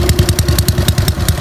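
Honda Wave 110i motorcycle with an aftermarket exhaust revved in quick, even pulses, a loud close throbbing putter rising and falling about seven times in just over a second, no voices.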